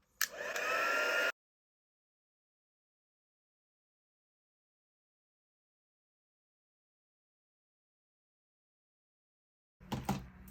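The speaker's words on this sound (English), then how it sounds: "I'm going to heat gun set it just on level 1" A heat gun on its lowest setting blows over alcohol inks in a loud, steady whoosh lasting about a second, followed by silence and a short return of airflow at the end.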